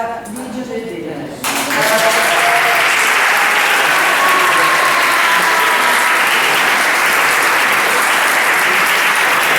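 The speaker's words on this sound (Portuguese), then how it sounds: "Pedir uma sessão de palmas para Lídia Medeiros." Audience applause at an academic tribute event, a dense sustained burst of clapping that starts abruptly after a brief moment of speech and fills the rest of the clip at steady loudness.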